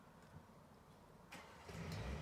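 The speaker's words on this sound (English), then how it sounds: "Sorry, that's my next door neighbour's noisy car going there." A neighbour's noisy car passes outside, a faint low engine rumble that swells and grows louder toward the end, with no talk over it.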